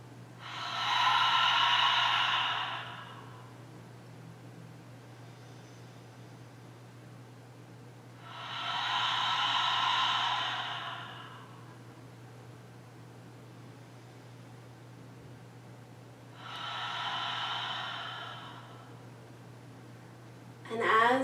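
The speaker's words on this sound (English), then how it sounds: "when you exhale, exhale as if you're fogging up a mirror" Slow, deep yoga breathing, exhaled as if fogging a mirror: three long breathy exhales of about three seconds each, spaced widely apart, soft and close over a steady low background hum.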